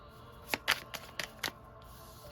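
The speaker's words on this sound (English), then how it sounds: "Let me shuffle." A few quick papery riffles as tarot cards are shuffled, five or so close, crisp bursts followed by a brief quiet moment.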